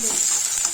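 Onions frying in oil in a pan are stirred, a short, close burst of sizzling with the scrape of stirring.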